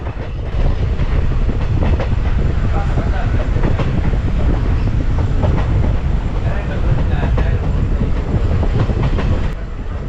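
Passenger train rolling along the Kottayam–Kollam–Tenkasi line near Thenmala in Kerala, recorded from onboard: a steady, loud rumble with rhythmic wheel clatter over rail joints throughout, no talk.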